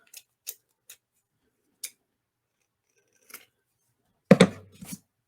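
Thin multicolored gold and green ribbon snipped with scissors: a handful of sharp, isolated clicks spaced a second or so apart, then a louder, fuller cut with a brief rustle at the end, close and quiet.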